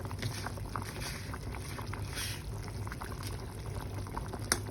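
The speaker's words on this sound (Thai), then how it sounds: "เดี๋ยวเราเคี่ยวสักระยะก่อนเนาะ" A pot of Thai pickled bamboo shoot curry with chicken simmers with gentle, continuous bubbling and occasional soft pops, heard up close at a steady moderate level.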